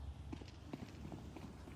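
Rapid footsteps in the video game Counter-Strike, a steady run of close, fairly loud thuds filling the short moment against busy game background noise.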